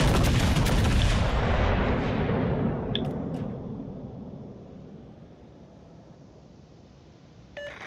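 In World of Warships Legends, a big naval artillery salvo erupts in a loud, close boom and rumbles off over several seconds, with a couple of faint sharp cracks partway through and a small click near the end.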